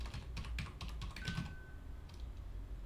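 Keys clatter on a computer keyboard as a spreadsheet cell is edited during a Google Sheets lesson, a quick burst of close, crisp taps for about a second and a half, then a few scattered strokes.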